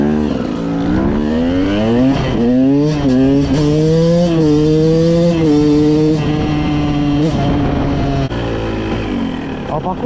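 A KTM enduro motorcycle engine revs up loud and close, its pitch climbing through gear changes with a rising, droning whine that dips briefly between shifts.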